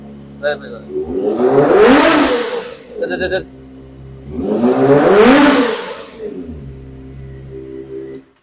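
A Kawasaki ZX25R motorcycle, a 2024 model about a month old, revs twice in sharp bursts from idle, each climb swelling loud and close before falling back to a steady idle, with brief talk between the revs.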